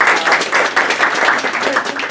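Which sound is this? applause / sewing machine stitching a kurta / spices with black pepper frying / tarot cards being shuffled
applause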